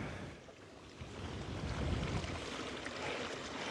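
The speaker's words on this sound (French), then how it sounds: "maintenant il y a trop de vent" Strong wind roars and buffets the microphone in a steady, dense rush, swelling louder near the middle, with no one speaking, at an exposed campsite in Ireland.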